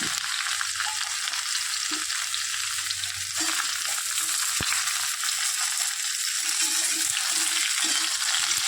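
Eggplant, cucumber and pumpkin pieces fry in hot oil in a pan, giving a constant loud sizzle with a few soft knocks and stirring sounds, and no talking.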